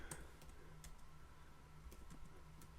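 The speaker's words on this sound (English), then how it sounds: "As you can see, I'm slow at typing" Soft, irregular clicks of someone typing on a computer keyboard, quiet and close, with no talking.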